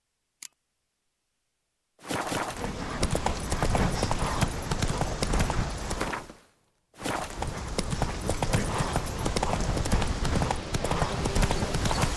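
Galloping hooves of Roach, a horse in The Witcher 3 video game, beat in a steady, loud clip-clop rhythm that starts after a short silence, cuts out briefly, then resumes at full pace.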